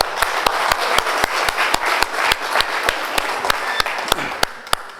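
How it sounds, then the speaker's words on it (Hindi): A crowd at a company anniversary celebration applauds a speaker, a dense wash of clapping with a few sharp, rhythmic claps standing out, loud and sustained throughout. "एक बार सर के लिए जोरदार तालियां सर।"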